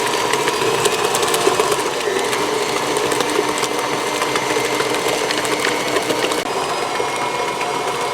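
An electric mixer beats chocolate chip cookie dough at medium speed, a loud, steady motor whir with a rattling, knocking texture that runs unbroken and alone throughout.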